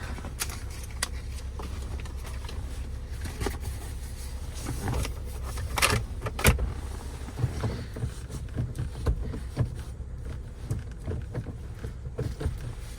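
Power windows on a Hyundai Tucson 2.0 whir in short motor runs inside the cabin, with a couple of sharp knocks, moderately quiet over a low rumble.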